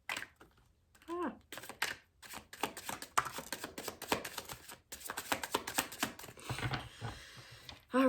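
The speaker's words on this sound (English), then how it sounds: "Let's do one more shuffle." Rapid papery riffling and soft card slaps as tarot cards are shuffled, in repeated bursts, with brief pauses between shuffles and a voice briefly audible.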